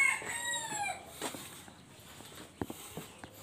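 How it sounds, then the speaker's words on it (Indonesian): An Ayam Cemani rooster crows once on a breeding farm, a fairly faint wavering call at the start, followed by scattered light knocks and soft background noise. "Nah ini ayam Cemani."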